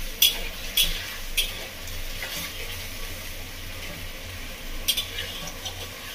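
Mushrooms fry in a pan after releasing their water, a steady close sizzle and hiss running throughout with occasional stirring scrapes and clinks.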